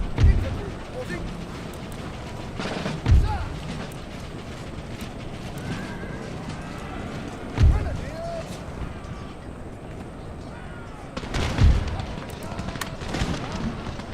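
Camel gunners fire in an Empire: Total War battle, with a deep boom every few seconds over a busy wash of battlefield noise, horse-like animal calls and distant clatter.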